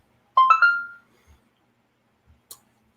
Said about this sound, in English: Turn the phone off. There's Jen Lynn text me